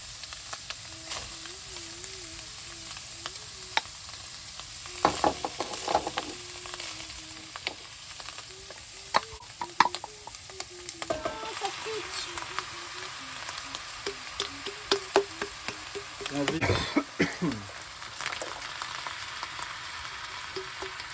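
Bolognese meat sauce with vegetables and tomato sauce bubbles and sizzles in a pot, a continuous close frying hiss broken by scattered clinks and stirring knocks, with no talking.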